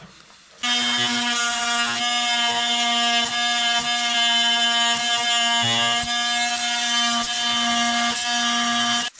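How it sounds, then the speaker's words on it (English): A power tool cuts through plastic during renovation work at a 128-year-old log cabin, giving a loud, steady high-pitched whine that runs unbroken for about nine seconds with no talking. "this thing is pretty good cutting plastic"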